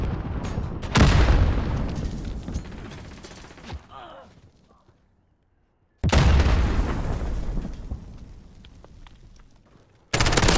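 A missile strike in Call of Duty: Modern Warfare lands with a loud explosive blast and rolling gunfire, which decays into silence before a second heavy impact and rumble and a final sharp burst at the end.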